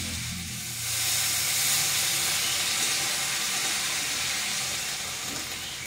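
Vegetable curry with bottle gourd greens, potato and brinjal comes to a boil after water is added, giving a steady, close hissing bubble that swells after the first second and holds evenly, with no voices.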